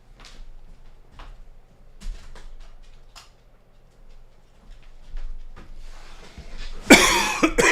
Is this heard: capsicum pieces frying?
no